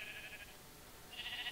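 A sheep in a video game bleats twice, a short wavering cry, then a pause and a second longer one, moderately faint against a quiet background with no speech.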